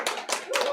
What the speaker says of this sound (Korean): 깊이 있는 강의를 해주신 우리 김명일 박사님께 큰 박수로 감사의 표현을 해드렸습니다.